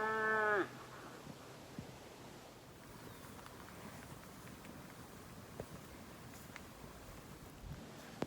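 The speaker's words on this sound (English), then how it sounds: "The cows have been here for an hour. I'm sure you can hear them crashing through the brush" A single cow moos briefly at the start, then cows crash through brush and kick rocks in a creek bottom, a steady low rumble of movement and rustling outdoors, with occasional soft knocks.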